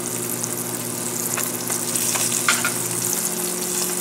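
Bronzino fillets fry skin side down in a thick-bottomed non-stick pan, a loud close steady sizzle with bursts of crackling spatter, no talking.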